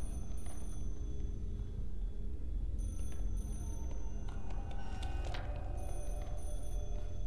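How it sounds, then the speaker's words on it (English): A telephone bell rings inside a video game, with repeated bursts of metallic ringing and chiming tones over a low, busy background hum. "Where's the source of the ringing?"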